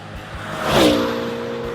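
A 9FF GT9R sports car, a tuned Porsche 911-based machine, roars close by with a rising engine and exhaust note that swells to a peak and then holds a steady, loud drone.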